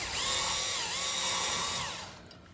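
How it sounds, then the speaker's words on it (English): A power driver whirs close by, backing out brake caliper screws on a 1997 Honda CR-V. Its pitch rises and falls over about two seconds before winding down. "Use your driver to remove those screws."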